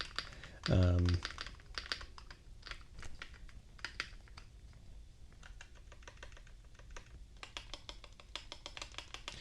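Clicky keystrokes on a OnePlus Keyboard 81 Pro mechanical keyboard with light springs, a quick run of typing followed by scattered irregular taps, close up, with a brief thud near the start.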